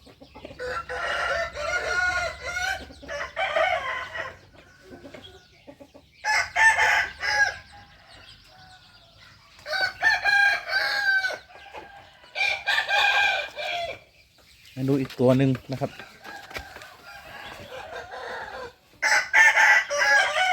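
Roosters crow repeatedly in loud bursts, some near and some farther off, with someone speaking briefly between the calls.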